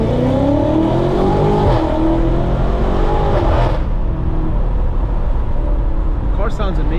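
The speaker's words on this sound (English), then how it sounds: "The car sounds amazing." A BMW F90 M5 Competition engine pulls hard with a rising roar, shifts, then the revs drop away to a steady drone before a quick blip near the end, loud and close from inside the cabin.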